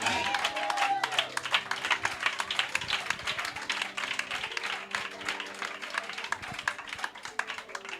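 A church congregation claps continuously in rhythmic applause, close and busy, with voices and tones underneath.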